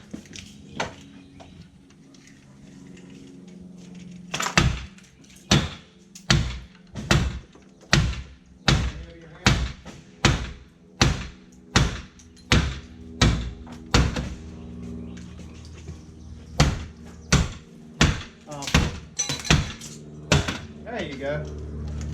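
An aluminium window frame is hammered out from behind brick, with a regular series of loud, close, hollow metallic thuds and knocks about once per second. Voices talk now and then between the blows.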